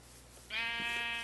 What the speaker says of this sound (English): Oh, actually, it's a good thing the sheep are here.